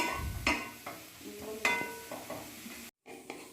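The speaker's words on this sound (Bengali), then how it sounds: "সেই কড়াইতেই মেথি শাকটা রান্না করে নিচ্ছি।" Fenugreek leaves cooking without salt in a kadai-style wok as their released water dries off, with a spatula scraping and stirring in uneven strokes over a light sizzle and a brief silent break near the end.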